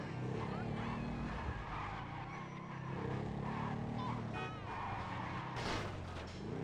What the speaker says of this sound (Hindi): गाड़ी को मैं फुल स्पीड में भगाते भगाते पहुंच चुका है वाले एरिया में